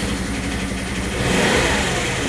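An engine revs up close and loud in a short steady burst, a dense mid-range roar that swells slightly toward the end, with no talk.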